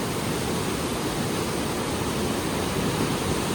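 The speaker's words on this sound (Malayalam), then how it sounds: "നല്ല രസമുണ്ടല്ലേ പുഴ ഇങ്ങനെ കലങ്ങി വരുന്നതാണേ" A muddy, swollen river flowing past in a village in Idukki, a dense, even rushing wash of water, loud and close with no breaks.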